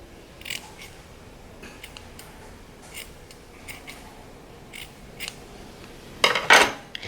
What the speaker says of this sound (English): I'm going to trim some of the little rays so they're not so long